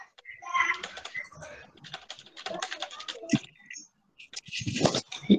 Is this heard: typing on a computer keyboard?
yes